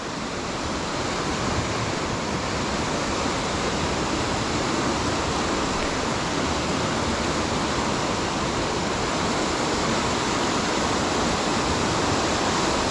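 Waterfall at Hethpool Linn roaring steadily and loudly for the whole stretch, a dense unbroken rush of falling water close by with no voices.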